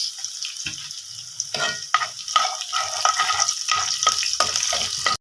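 Spices and chillies sizzle and crackle in hot oil for a tadka over dal mash, a steady close frying hiss with irregular stirring bursts and pops throughout, no voices.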